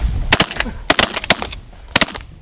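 Shotgun blasts during an early-season goose hunt in North Dakota, a fast volley of several sharp cracking shots from a group of hunters, close and loud with brief gaps.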